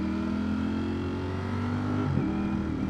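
Ducati Streetfighter V4S 2024 motorcycle engine running steadily at low revs, its drone dipping briefly as the quickshifter changes gear, then carrying on close and loud without any talk.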